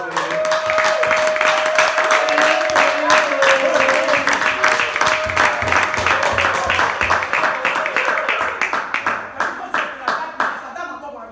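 An audience claps for a church testimony, a dense, even wash of many hands that holds steady and then slowly thins and fades toward the end, with a sustained tone and voices mixed in early.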